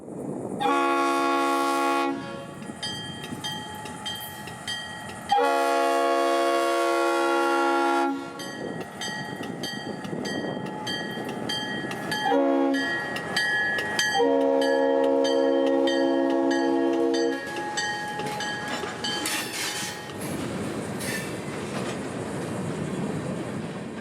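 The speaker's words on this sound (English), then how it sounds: "I'd hear job 932 departing the yard for the K branch, so I'd walk over for the shot as 511 once again brings out a train" Freight locomotive 511 departs the Fort Pierce yard with a local train, sounding loud repeated blasts of its multi-tone horn over rumbling engine and wheel noise, with pauses between the blasts.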